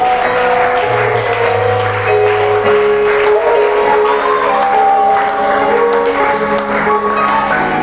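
Church congregation acclaiming in worship, a loud, sustained wash of applause and cheering mixed with voices and ringing tones that carries on without a break.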